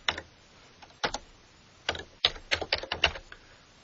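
Someone types on a computer keyboard, a close run of crisp key clicks in short irregular clusters with brief pauses between them, and no voices.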